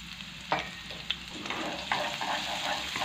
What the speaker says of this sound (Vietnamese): Đây, mình sẽ phi thơm cái hành tỏi khô này lên.